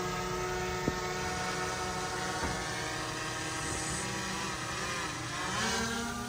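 A camera drone flying outdoors at Palampur gives a steady, sustained motor whine with layered tonal hum, holding evenly throughout with no talking and a slight swell near the end.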